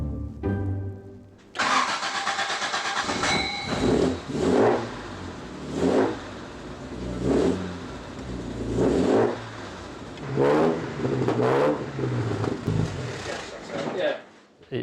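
A restored Jaguar E-Type engine starts up and runs: a cranking catch, then a steady idle broken by repeated rising revs, loud and close, with someone talking over parts of it.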